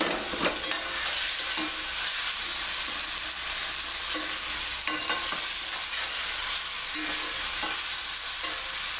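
Vegetables stir-frying in a pan over a very high flame, a continuous loud sizzle with occasional stirring scrapes and clatters, close and without speech.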